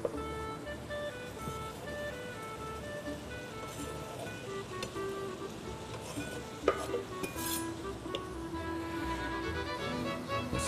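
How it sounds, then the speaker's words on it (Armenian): Onion fried with lamb in a pan: a soft, continuous sizzle runs beneath close, irregular scraping and clinking as a utensil stirs against the metal, with one sharper knock midway. "սոխը մսի հետ պիտի տապակենք։"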